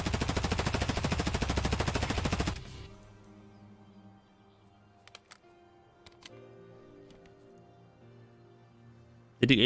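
Gunfire from a rifle in a BSG first-person shooter game, sharing the MP5's firing sound: a loud, dense burst of rapid automatic shots for about two and a half seconds, then quieter background tones with a few faint clicks, and a sharp loud burst at the end.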